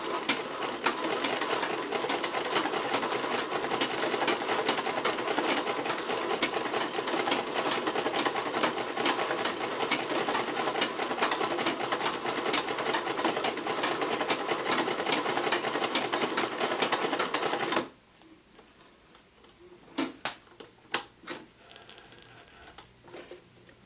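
A treadle sewing machine stitching steadily, a loud, fast, continuous mechanical chatter for most of the stretch before stopping, followed by a few quieter clicks and knocks nearby.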